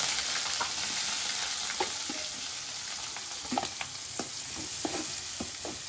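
Onions and tomato fry in a pan with a constant crackling sizzle, while a spoon scrapes and taps against the pan in several quick, close strokes.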